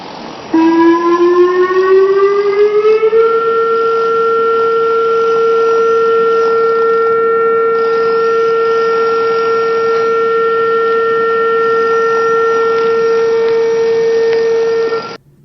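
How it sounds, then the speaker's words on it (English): A loud facility gas release siren rises briefly, then holds one steady tone for about twelve seconds before cutting off abruptly. "This is the sound of the gas release siren."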